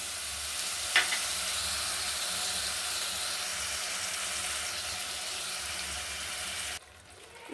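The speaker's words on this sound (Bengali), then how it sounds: "দিচ্ছি বাটি ধোয়া জল।" A curry with turmeric and sour yogurt sizzles loudly and steadily in the pan as rinse water from a bowl is poured in. The dense frying hiss continues alone, then cuts off abruptly near the end.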